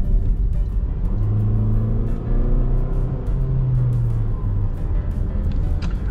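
A 2022 Mazda CX-8 AWD with a 2.5-liter engine accelerates, its steady low engine drone rising in pitch in smooth stages with gear changes, heard from inside the cabin without talking.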